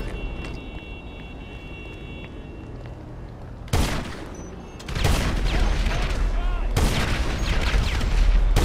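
Explosive ammo gunfire in GTA Online, a low rumbling backdrop suddenly broken by loud, booming bursts of shots and blasts that keep coming in heavy, repeated volleys.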